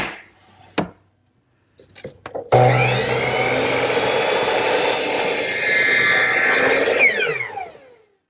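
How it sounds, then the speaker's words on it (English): A miter box saw cuts through 3-inch wood stock in a woodworking shop, a loud steady sawing run of about four seconds after a few short knocks as the piece drops in, then it stops abruptly. "Over here, I have the 3-inch stock, which I'm going to miter, and we'll do that over at the miter box"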